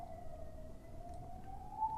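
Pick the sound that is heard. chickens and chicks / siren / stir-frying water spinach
siren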